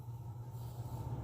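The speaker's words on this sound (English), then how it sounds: "Oh, there goes the heat on." A home heating system runs indoors with a steady low rumbling hum and faint airy whoosh, continuous and fairly quiet, with no one talking.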